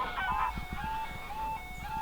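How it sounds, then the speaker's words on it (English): Birds call from the countryside around a small rural railway station beside an RSPB nature reserve, with repeated short chirping notes and a steady tonal whistle set over low rumbling background noise, with no voices. "And not to forget birds."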